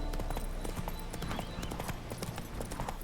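Horse hooves gallop in The Witcher video game, giving a steady, fast clip-clop rhythm up close. A dense layer of game ambience runs underneath the whole time.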